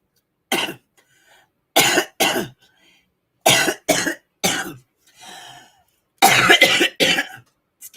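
A woman coughs repeatedly in close, loud bursts, some doubled or in quick triples, separated by short silences, with a fainter throat-clearing sound in the middle.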